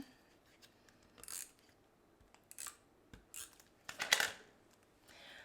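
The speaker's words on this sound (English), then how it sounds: "We cut off part of the envelope." Scissors snip through part of a paper envelope in several short, quiet crisp cuts spaced irregularly, with a brief rustle of paper at the end.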